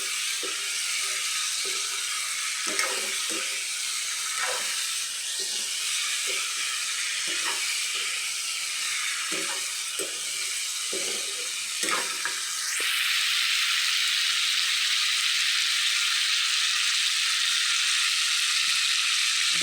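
Broiler chicken fries in a pan with a steady sizzle and repeated stirring scrapes, until water is added and the hiss swells into a louder, continuous steaming roar, with no voices.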